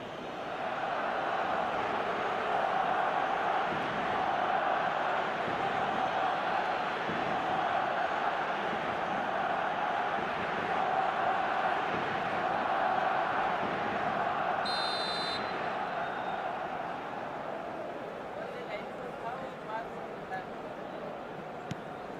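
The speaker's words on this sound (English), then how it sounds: "the crowd level has gone up a notch or 10" Stadium crowd roaring steadily throughout a football match in the eFootball video game, a dense continuous wall of cheering with a brief whistle-like tone midway and a commentator talking over it.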